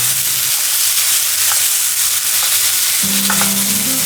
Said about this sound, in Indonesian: tambahkan 3 iris jahe untuk ditumis bersama bumbu bawang,